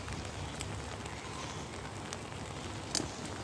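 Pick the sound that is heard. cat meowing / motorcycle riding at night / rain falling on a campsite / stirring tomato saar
rain falling on a campsite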